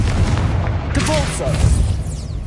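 A Confringo blasting spell explodes in Hogwarts Legacy with a loud, close boom, crackling rumble and a brief whooshing tail, and a voice sounds over it.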